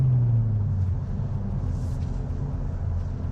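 Deep, rumbling exhaust drone from a 2020 Hyundai Veloster N on a test drive, a low steady throb that eases slightly in pitch, heard without talking.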